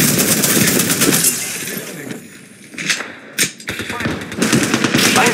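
Rapid automatic gunfire in the video game Apex Legends, loud bursts of close shots with sharp cracks and short pauses between volleys, over game ambience.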